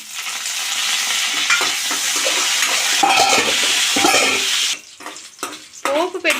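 Curry leaves dropped into hot ghee for a tempering with urad dal, chana dal and mustard seeds, bursting into a loud, crackling sizzle that cuts off abruptly, followed by a few quieter clinks and faint sounds.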